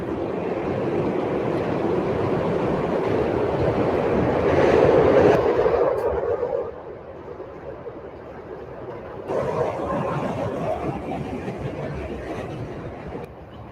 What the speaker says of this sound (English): You hear the train going by.